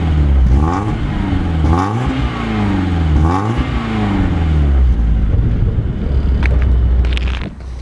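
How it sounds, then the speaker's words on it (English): A BMW 316 Compact's exhaust drones loudly from inside while driving, the engine note climbing through several gear changes, steady and close, with a few faint clicks near the end. "you have a beautiful noise from that beautiful exhaust"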